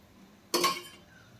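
A lid is set over a pot of cooking vegetable kurma, making a single sharp metallic clank with a short ringing tail, heard alone in a quiet kitchen.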